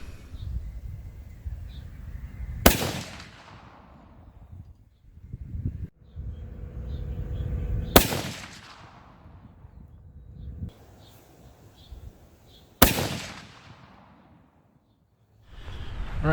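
Three sharp rifle shots fired with handloaded Terminal Ascent bullets, spaced several seconds apart at a range, each a loud crack with a long fading tail and quiet gaps between.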